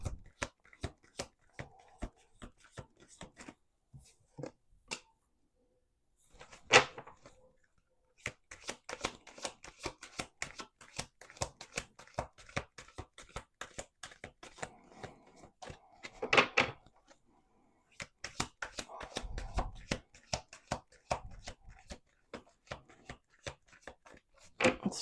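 Cards being shuffled in rapid riffling bursts, several rounds separated by short pauses, close and crisp.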